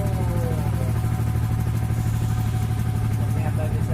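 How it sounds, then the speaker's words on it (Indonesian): A Yamaha Vixion motorcycle engine that had a faulty start switch runs at a steady, close idle with a low, even thrum, and someone talks over it. "Dan motor bisa hidup seperti biasa."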